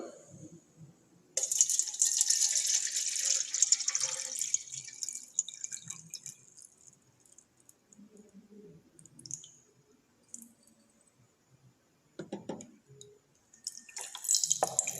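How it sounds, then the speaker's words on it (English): Water pours into a Eureka can and spills over into a beaker, a soft trickling and dripping close by, louder at first and then thinning to sparse drips and small clicks. "As you can see that the extra water is overflowing out"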